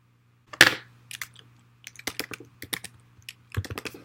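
Someone types on a computer keyboard, with irregular clusters of crisp, close keystrokes and a louder first press over a faint steady hum.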